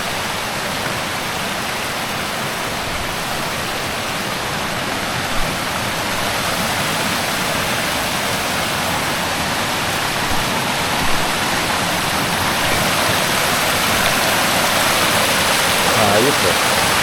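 Bomod-Ok Falls in Sagada sends a steady, loud rush of falling water that stays constant, a continuous roar with faint voices now and then.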